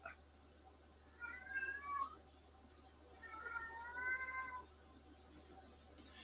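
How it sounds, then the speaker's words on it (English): A pet cat meows indoors in two drawn-out, wavering calls, fairly faint, over a steady low hum, with no talking. "And that's Sanford meowing."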